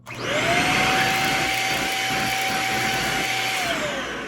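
A Shark Rocket Deluxe Pro HV322 cordless stick vacuum cleaner motor whirs up to a loud, steady roar with a high whine, runs continuously, then begins winding down.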